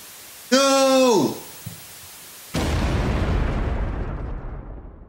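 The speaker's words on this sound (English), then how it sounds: "But of course they survived the explosion." In the Super Mario RPG video game, a character's falling cry is cut off by a heavy explosion that bursts loudly and then rumbles and fades slowly.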